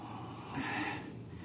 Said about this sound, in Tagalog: Grabe, hingal pa rin ako.